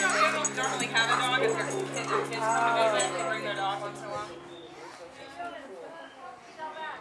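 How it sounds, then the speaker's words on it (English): An excited dog whimpers, yips and gives short barks close by at a 40th birthday party, with people talking over it and faint jingling, and the sounds taper off toward the end. "The dog is excited."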